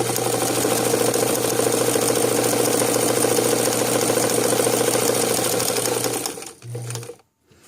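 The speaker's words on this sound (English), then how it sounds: "Now I'm going to increase the stitch length just a smidgen and forward stitch." A domestic sewing machine forward stitches a buttonhole, a steady close whirring hum that runs unbroken for about six seconds, cuts out, then gives one short burst before stopping.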